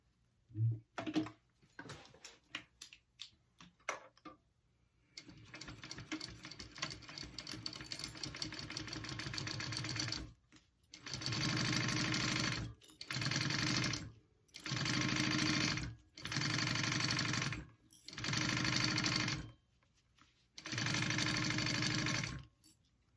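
A sewing machine stitches a tote bag seam at a quarter inch, starting with a long continuous run and then breaking into five or six short, even bursts separated by pauses, loud and close with no talk.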